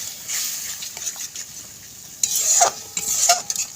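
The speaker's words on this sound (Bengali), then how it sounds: "এতে টমেটো কুচি ধনে পাতা কুচি দিয়ে এবার মশলাটাকে ভালো করে কষে নিতে হবে" Spice paste with chopped tomato and coriander leaves fries in a pan while being stirred, a soft steady sizzle with scraping spoon strokes and a few louder clinks toward the end.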